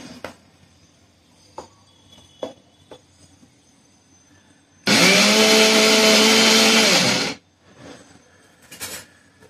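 A kitchen electric grinder pureeing cooked dal for puran poli whirs loudly for about two and a half seconds with a steady motor whine, framed by scattered clinks and handling knocks before and after.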